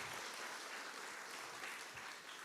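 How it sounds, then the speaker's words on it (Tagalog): A church congregation at a Sunday morning worship service claps after the choir sings, a brief, soft, steady patter of applause heard from a distance. "Mahinang palakpak nyo."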